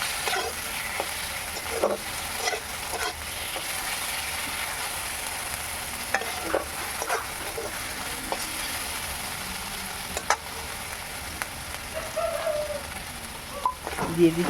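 Tomatoes frying in a pan while being stirred for a rohu fish curry, a quiet continuous sizzle with scattered spatula taps and a faint bird cooing in the background.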